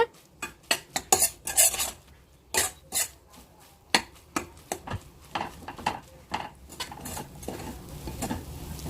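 Shredded roti and egg bhurji stirred in a pan over a high gas flame, sharp irregular clinks and scrapes of a metal spoon against the pan over a faint sizzle, close by and without voices.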